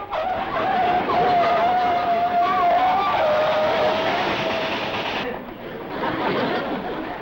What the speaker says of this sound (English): Whoever's high-balling that locomotive up there is either drunk or crazy.